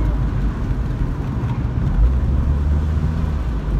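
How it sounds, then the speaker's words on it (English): Low, steady exhaust drone from a Saab car while driving, heard from inside the cabin as a continuous deep rumble with road noise at a constant level. "How do you like that exhaust? It sounds good, honestly."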